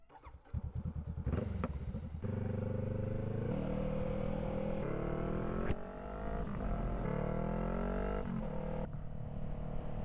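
A motorcycle ridden by a rider in Alpinestars Faster 3 boots, engine starting up and then revving steadily up and down through the gears, loud and close with rising and falling pitch, no talk.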